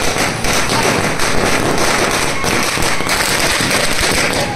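Firecrackers and fireworks go off at a large BJP election victory rally in Thandla town, India, a dense continuous crackle of rapid loud bursts filling the whole stretch with no pause.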